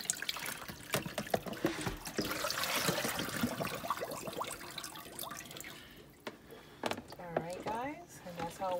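Tap water runs and splashes while a large Thanksgiving turkey is rinsed in a sink. The stream is irregular and is broken by bumps and handling clatter, with a brief voice-like sound near the end.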